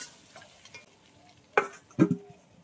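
Mutton curry stir-fried in a pan, a few sparse scrapes and clacks of a spoon against the pan, with two louder strokes near the end over a quiet background.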